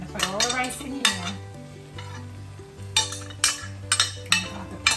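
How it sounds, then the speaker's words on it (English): Plain rice tipped into a hot pan with leftover fridge ingredients and stirred, a soft sizzle under a run of scraping, clinking utensil strokes against the pan, close and moderately quiet, with no talking. "I'm gonna put all the rice in here."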